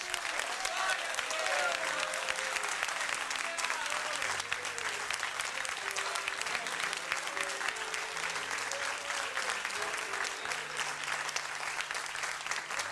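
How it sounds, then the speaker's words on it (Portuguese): A church congregation applauds for Jesus in a steady, dense wash of clapping with a few voices and low sustained tones underneath, continuing evenly throughout. "Vamos dar uma salva de palmas para o Senhor Jesus?"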